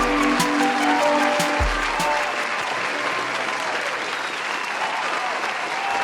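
Sustained applause and cheering from a crowd, cued during a horror-themed podcast episode, steady and loud from start to finish with a few brief whoops rising above the clapping.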